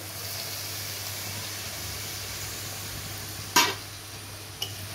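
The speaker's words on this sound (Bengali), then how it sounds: "মা এবার মশলাটাকে ভালো করে কষিয়ে নিচ্ছে।" Masala paste for a Bengali prawn bati posto being stir-fried in a pan, a soft steady sizzle with a low hum beneath and one sharp scraping clatter near the end.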